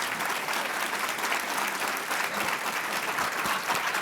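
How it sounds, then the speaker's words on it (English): Warm applause from a conference audience at a closing fireside session, dense sustained clapping from a large crowd filling the room without pause. "please join me in giving Claire and Harry a really warm round of applause"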